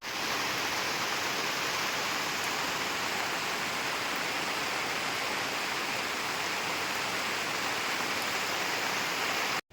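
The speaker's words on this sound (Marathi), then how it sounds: "आणि पाऊस तर चालूच आहे" A constant, even wash of monsoon rain over rice fields during paddy planting in Konkan hisses steadily without pause, fairly close and uninterrupted, with no talking.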